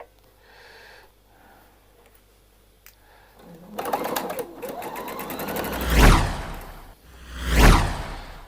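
A sewing machine stitches a straight shoulder seam on a dress, a quick whirring burst with rapid needle clatter, followed by two louder swishing handling sounds nearby.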